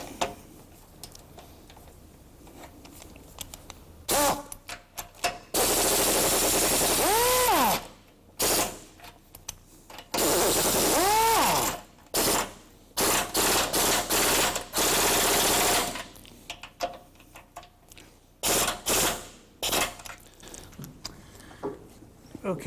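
Rapid mechanical ratcheting bursts while suspension bolts are tightened during a suspension overhaul, loud close bursts separated by short pauses, some stretches whirring continuously.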